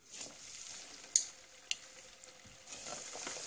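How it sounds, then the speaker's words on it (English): Morel mushrooms fry in a large deep fryer, a soft, continuous bubbling hiss with a couple of sharp pops and a light splash, fairly quiet and without talk. "And this fryer holds a lot. And so you just keep throwing them large ones in there."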